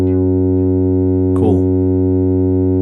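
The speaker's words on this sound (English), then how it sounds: "Let's put some echo" Steady synthesizer oscillator tone with echo, a sustained buzzy multi-harmonic drone holding for the whole stretch, interrupted by a brief burst of glitchy repeating texture around the middle; loud and clean, no talk.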